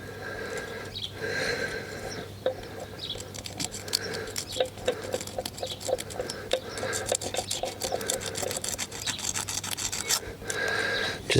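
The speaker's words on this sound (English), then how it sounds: "I'll just give it a quick little sand" Sandpaper rasps against a lawn mower spark plug to clean off carbon deposits, a close, quiet series of irregular scratchy strokes continuing throughout.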